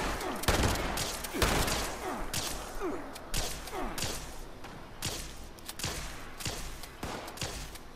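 Gunfire in the video game Fallout 76 crackles as a rapid run of sharp shots and thuds, steady and moderately loud for several seconds.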